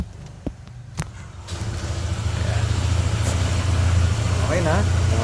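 Honda ADV 160 scooter started without a key, opening with a couple of sharp clicks before the engine catches and settles into a steady, close idle, with someone talking over it.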